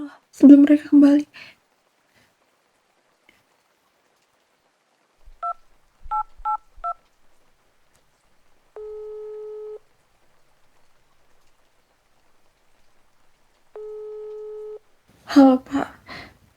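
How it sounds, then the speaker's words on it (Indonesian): A phone is dialed with a few short keypad tones, followed by two bursts of a steady busy signal separated by a pause, with a voice speaking before and after. "Aku harus telepon polisi dulu sebelum mereka kembali."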